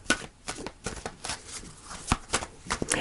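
A tarot card is drawn from a deck, heard as a close series of quick, crisp card flicks and slaps that are fairly loud and irregular, with no speech over them.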